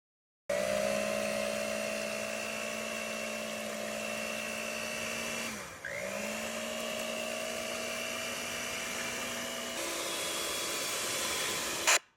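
An electric mixer whips egg whites to stiff peaks with a steady high-pitched motor whine. The whine dips briefly midway, then shifts pitch near the end before stopping.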